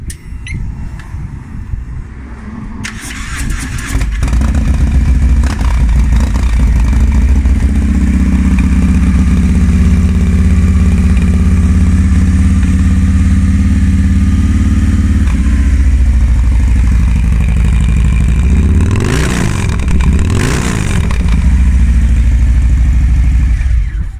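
A Harley-Davidson Sport Glide with a big bore conversion, cams and Power Vision tuning cranks and fires up, then idles loud and close with a deep rumble before two sharp throttle revs near the end, with no talking.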